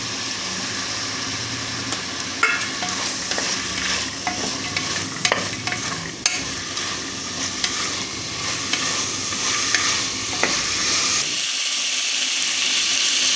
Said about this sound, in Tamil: இப்போ இஞ்சி பூண்டு பேஸ்ட் போட்டுக்கிறேன். பட்டாணி போட்டுக்கலாங்க.